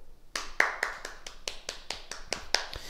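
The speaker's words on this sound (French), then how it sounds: "on s'applaudit, bravo" A small group in a martial arts class clapping in a loose, evenly spaced rhythm, about a dozen distinct close claps after a brief silence.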